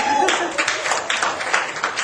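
A comedy club audience breaks into applause, a dense wash of many hands clapping at once, filling the room steadily for about two seconds.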